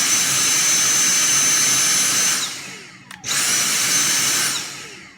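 A Dyson vacuum whirs loudly while agitating dandelion seeds inside, its high-pitched motor roar running steadily, winding down, briefly cutting out, then spinning back up before fading again.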